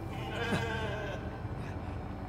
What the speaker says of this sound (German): No, Molly, das Schaf